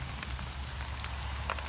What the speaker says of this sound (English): sure enough, it's raining